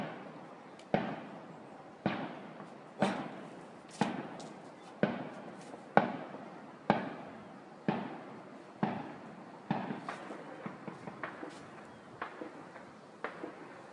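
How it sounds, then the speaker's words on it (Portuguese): Repeated sharp gunshots from an intense shootout in São Francisco, Niterói, crack out one after another at fairly regular intervals, with echoing tails, growing quicker and fainter toward the end. "Muito tiro."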